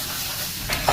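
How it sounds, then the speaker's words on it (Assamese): Pointed gourd curry with tomato fries in oil, a steady soft sizzle that briefly pops and flares near the end. "অলপ ভাজিব ৰঙা হোৱাকৈ।"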